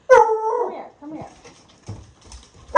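Vocal sounds from a pet dog, a strong harmonic howl-like whine at the start, then weaker barks and whimpers trailing off, close and fairly loud indoors.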